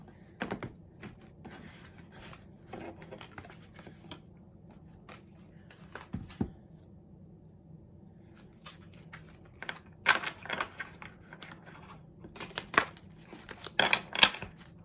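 Soft, irregular riffling and tapping of tarot cards being shuffled, with sharper bursts of crisp clicks scattered throughout in a quiet room.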